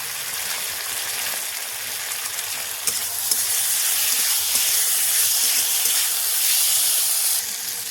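Tomato hitting a hot pan with soy sauce for masala pasta, giving a steady bright sizzle and hiss that swells partway through and holds, close and alone with no talk.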